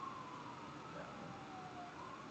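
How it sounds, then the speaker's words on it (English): A distant emergency siren, likely ambulances passing by, wails faintly with a slowly gliding tone beneath steady background hiss, with no clear talk over it. "You got some ambulances going by?"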